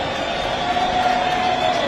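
Football crowd at a Zimbabwean Premier League night match, Scotland FC against ZPC Kariba FC, making a steady roar of cheering throughout, with a voice talking over it.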